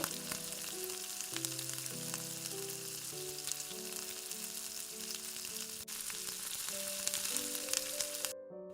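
Spices fry with cauliflower and potato in a pan for a Bengali-style dish, making a steady, close sizzle that runs unbroken under background music until it cuts off near the end.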